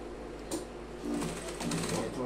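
A sewing machine runs steadily while stitching a leg of waxed-fabric trousers, a close mechanical whir that picks up slightly partway through, with speech heard alongside.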